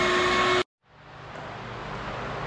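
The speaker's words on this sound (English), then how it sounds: "turn that vacuum cleaner back on" A vacuum cleaner in a truck shop whines loudly, cuts off abruptly, then spins back up with a rising steady roar, the motor sounding close by.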